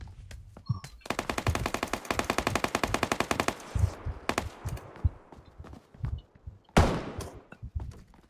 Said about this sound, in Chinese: 他刚刚开了一枪